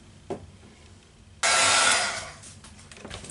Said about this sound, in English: I'm just going to go ahead and give it a good spray. Try to get lots of that golden shimmer on there.